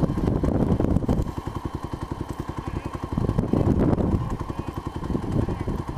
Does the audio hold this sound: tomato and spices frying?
no